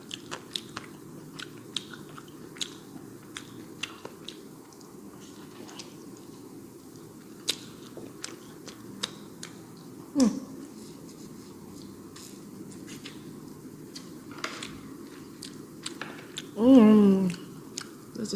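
Biting and chewing on spicy salted crab with a big chili pepper, soft crunchy bites and mouth sounds scattered throughout, close up, with a louder burst near the end and some faint voice in the background.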